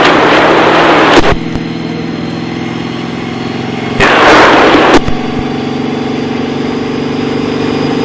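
Race car engine at light, quarter throttle on a track, a steady harmonic drone with two brief louder rushes of noise, near and continuous with no talk.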